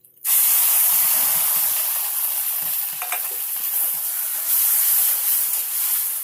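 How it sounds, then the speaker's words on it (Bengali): Bitter gourd fries lightly in a hot pan. A loud, steady sizzle and hiss starts abruptly and carries on without a break, with occasional faint stirring taps. "করলা যেটা করে রেখেছি সেটাকে দিয়ে আমি একটু হালকা ফ্রাই করে নেব"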